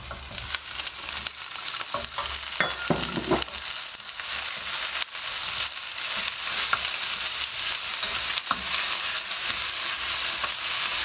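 Bell peppers hit a pan of frying garlic with a bright, steady sizzle, punctuated by scraping stirs and a few knocks, loud and close with no one speaking.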